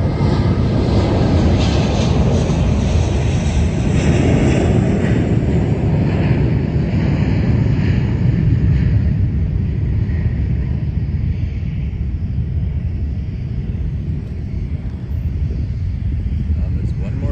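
An American Airlines airliner taking off, a loud broad jet roar that stays steady throughout and eases slightly toward the end, with people talking over it.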